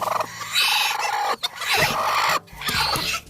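A frightened chicken clucks and squawks loudly nearby in agitated bursts after a falcon attack on caged pigeons, with brief pauses between the noisy calls.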